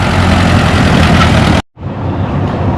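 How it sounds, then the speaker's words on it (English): A pulling tractor's engine roaring at full power during a tractor pull, a loud, dense, sustained drone that cuts out abruptly for a split second and then resumes slightly quieter. "Josh Colburn on the 2025 raffle tractor for St. Jude's."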